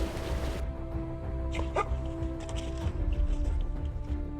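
A rhino ranger's tracking dog barks and yips in a few short, fairly close bursts over a steady outdoor background rumble, with a softer whimper between the louder calls.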